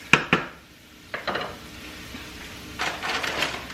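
Garlic is sautéed and stirred in a pan, with sharp clinks of a utensil on the pan at the start and later bursts of scraping and stirring over a faint, steady background.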